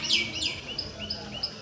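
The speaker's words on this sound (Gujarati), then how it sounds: "અને પોપટ ચકલીઓ બધા બોલે છે" Village birds including parrots and sparrows sound off in quick, high chirps and short whistled calls, fairly close and lively, with no voices over them.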